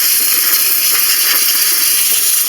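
A steam jet cleaner blasting at a washing machine, a loud, constant high hiss that holds steady without pause and with no voices.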